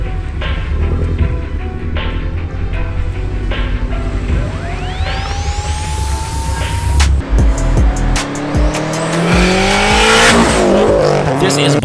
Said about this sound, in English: the aggressive sound and the unique exhaust tone is one of the reasons